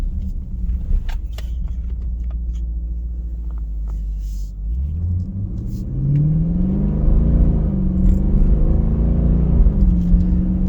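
At roughly one-third throttle in regular mode, a 2017 Dodge Durango R/T with a Mopar upgrade exhaust idles low, then swells into a rising, loud rumble as it accelerates.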